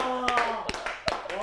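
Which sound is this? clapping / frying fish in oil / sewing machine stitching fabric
clapping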